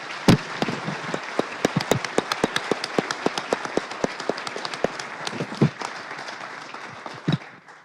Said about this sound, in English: If I may ask the audience to join me in a round of applause for our panelists